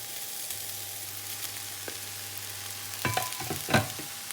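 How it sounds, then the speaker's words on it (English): Courgette, garlic, chillies and pasta stir-fry in a pan, a faint steady sizzle with a few scraping stirs and clinks near the end, no voices. "And they've been frying off, or been stir frying them."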